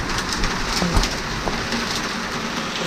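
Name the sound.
hail hitting a boat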